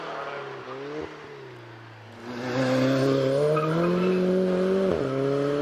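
An Alfa Romeo 4C sports car racing up the Prescott hillclimb course, its engine note rising and falling through gear changes, then swelling louder as it powers past with a brief tyre squeal, moderately distant.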